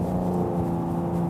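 A Cadillac CT5-V sport sedan's engine drones low and steady under throttle from inside the cabin, a thick humming tone held for about a second with no talk.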